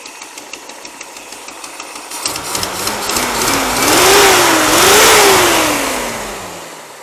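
Chevrolet El Camino engine idling with a knocking tick, then revving up in rising and falling pitch sweeps before easing back down, loud and close with no talk.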